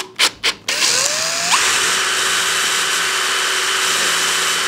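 A bicycle dynamo being spun during a voltage test starts with a few short bursts, then whines up in pitch and settles into a loud, steady mechanical drone close by.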